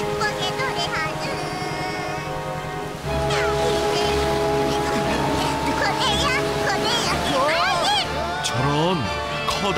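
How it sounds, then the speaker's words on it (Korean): Large ocean waves surge and crash over a boat in a children's animated cartoon, a loud continuous rush of water under music and a cartoon character's voice. "커다란 파도가 배를 덮쳤어요."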